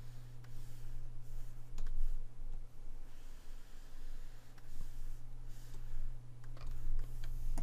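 Mouse clicks while sculpting in ZBrush 2019 at a computer, scattered faint ticks over a steady low hum, with no talking.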